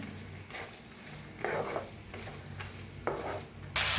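Soaked chana dal is stirred through hot oil tempering for a ridge gourd dish, with a spoon scraping a pan in several short, uneven strokes over a light background sizzle.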